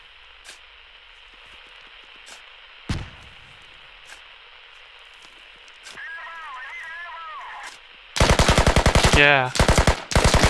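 Bursts of rapid automatic machine-gun fire in a trench warfare video game, loud and close near the end after a single earlier shot, over a steady rain-like hiss and distant pops, with players talking briefly.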